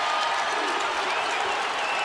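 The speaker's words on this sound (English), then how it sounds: "the crowd is very uneasy" A basketball arena crowd at a Kentucky vs Evansville game murmurs and stirs uneasily, a dense continuous wash of voices and scattered claps under a commentator's voice.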